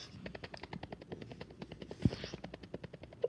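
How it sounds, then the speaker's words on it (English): A heligun fires in the video game Magnet War as a rapid, even burst of faint mechanical shots, about a dozen per second, running without a break. "Here comes the heligun."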